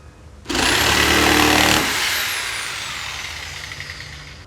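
A Crown 710 watt jigsaw starts abruptly and cuts with a loud, high, whining buzz, then winds down and fades over the last few seconds with no speech.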